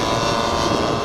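A Douglas DC-3 airliner flies past at a warbird air show, a steady, loud propeller-engine drone with no break, filling the whole moment and with no voices over it.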